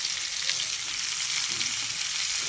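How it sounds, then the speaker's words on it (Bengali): Vegetables with slit green chilies frying in a pan for a spinach and prawn dish, giving a steady, dense hiss of sizzling oil with faint stirring underneath, close and continuous, no talking. "এগুলোকে আর একটু ভালো করে নাড়াচাড়া করে আমি ভেজে নিচ্ছি"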